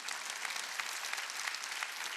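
A church congregation at a Wednesday worship service claps together, a dense, steady applause with sharp individual claps standing out. It is moderately quiet and lasts about two seconds, with no voices.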